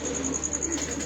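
A rooftop pigeon gives a brief soft coo, close and muffled under steady background noise, lasting just over a second.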